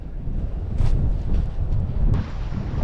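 Wind gusts across a microphone in remote Australia while a fishing lure is cast, a loud, uneven low rumble that swells and eases, with a couple of brief higher rustles and no speech.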